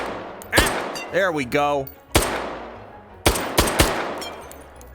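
An AMAG 2 rifle chambered in .22 WMR fired in the VR game H3VR, with sharp close shots in a short irregular volley, each ending in a brief ringing tail, while someone speaks briefly between them.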